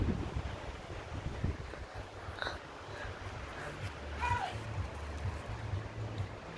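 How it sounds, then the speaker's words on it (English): Wind blowing outdoors under a cloudy sky, a steady low buffeting rush across the microphone with faint scattered sounds in the background. "Wind."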